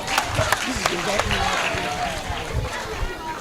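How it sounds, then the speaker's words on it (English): A crowd applauds cricket coaches at an outdoor cricket oval legacy program, with steady, dense clapping and background chatter that carry evenly through the short stretch. "A huge round of applause for them."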